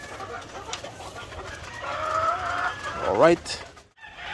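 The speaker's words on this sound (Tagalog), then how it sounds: "ito pala yung mga ina, yung ina ng ating crosses ng Rhode Island Red" Rhode Island Red cross hens cluck and murmur nearby over soft background noise, with a louder call near the end, and a person speaks briefly.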